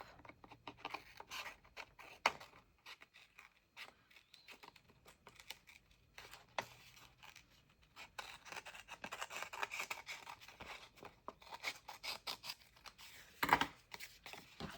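Scissors snip through paper for a handmade fairy journal. The cuts come as quiet, irregular close-up snips and rustles, with no voices.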